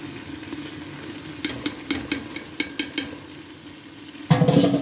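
Meat sautéing in a pan for orman kebabı, a low sizzle broken by a run of sharp, evenly spaced scraping strokes of a spoon, then a louder burst of frying at the end.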